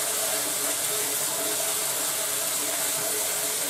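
Water running steadily into a 1,000 litre tank at an allotment, a continuous broadband rushing hiss that stays even and fairly close throughout, with no voices.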